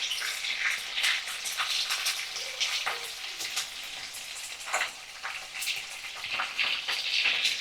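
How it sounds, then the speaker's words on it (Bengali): Prawns fry in hot oil for a prawn malai curry, giving a continuous close sizzle with scattered crackles and pops and no talking. "সুন্দর করে লাল লাল করে আমি চিংড়ি মাছগুলোকে ভাজা করে নিচ্ছি।"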